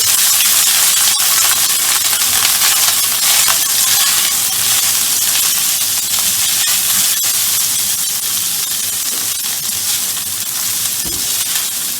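Rice browning in hot cooking oil in a pan: a steady, loud, bright sizzle and hiss that continues without pause for the whole stretch, with faint occasional clicks of grains shifting.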